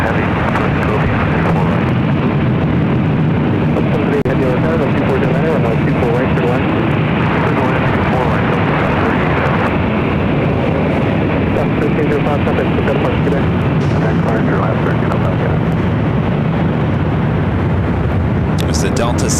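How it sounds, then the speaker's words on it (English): A Delta Airlines Boeing 737-900ER comes in to land at LAX with a loud, continuous broadband jet roar that holds steady for the whole stretch, with no breaks. "This is Delta Airlines 2096 coming in from New Orleans on the 737-900ER."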